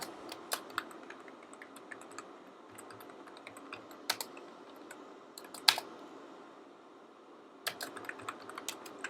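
Java code is typed on a computer keyboard in quiet, irregular clicking keystrokes, with occasional louder taps, heard close up and without speech.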